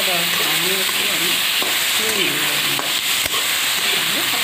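Bata fish frying with bottle gourd stems and potato in a pan before water goes in, a loud, dense sizzle running throughout, with someone talking over it.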